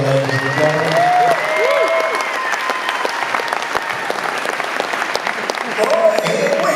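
An audience applauds steadily and loudly at a live show, dense clapping throughout, with brief sung or spoken voice sounds layered over it.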